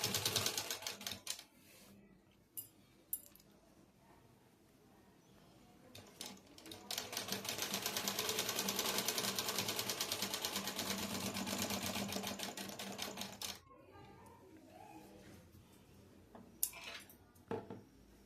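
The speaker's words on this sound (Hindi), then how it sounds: "बांधने के बाद कपड़े में स्ट्रेट सिलाई कर लेंगे" A sewing machine runs a straight stitch through fabric for a katori blouse, a long quiet stretch of fast, even clatter framed by softer handling noises before and after.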